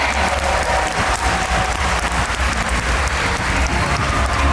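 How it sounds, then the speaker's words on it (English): A crowd breaks into loud, sustained applause for a dolphin presentation show at Georgia Aquarium in Atlanta, dense and continuous clapping filling the space throughout. "How about a round of applause for our dolphins"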